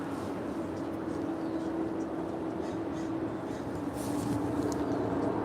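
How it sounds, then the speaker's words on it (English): An American Airlines A320, 24 years old and originally delivered to America West, arriving from SFO at LAX, heard as a steady, broad jet roar with a low hum that holds for the whole stretch and swells slightly near the end. "As we take a look once again at this American A320 coming in from SFO"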